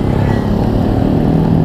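A Ducati Monster motorcycle engine drones steadily and loudly up close on a Jakarta street, a continuous throaty rumble with no pause.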